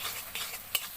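Chili powder and spices for chicken curry stirred in a pan, a soft sizzling hiss broken by a few brisk scrapes, one louder swipe near the end.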